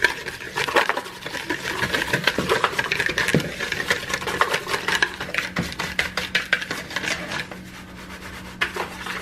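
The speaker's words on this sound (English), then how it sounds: "I'm going to take another whisk and go ahead and whisk those dry ingredients together" A whisk scrapes and clicks rapidly against a bowl while blending dry spice ingredients for spicy roasted almonds, a close, busy rhythm of light strokes that thins out toward the end.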